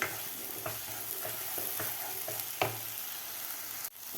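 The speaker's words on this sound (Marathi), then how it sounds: "मिडियम गॅसवर व्यवस्थित आपल्याला मसाले परतून घ्यायचे आहेत" Spices being sautéed over a medium gas flame for egg masala make a soft continuous sizzle, broken by a series of light spatula taps and scrapes against the pan, with no talking.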